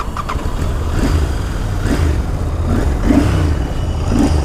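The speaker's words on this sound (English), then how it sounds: "Now this is Continental GT that I'm going to ride. Let me see how this performs." Royal Enfield Continental GT 650 motorcycle engine, BS6 model, revving in a series of rising and falling pulls with a deep, steady exhaust rumble, close and loud throughout.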